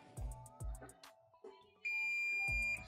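Multimeter continuity buzzer testing a shorted MOSFET from a Mackie SRM450 active speaker amplifier, giving a sustained steady beep after some brief clicks and handling noises, quiet and close.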